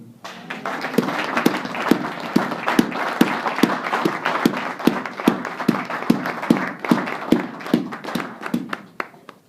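A church congregation claps in praise, sharp evenly spaced claps in a strong unified rhythm over a background of scattered applause, steady and loud throughout.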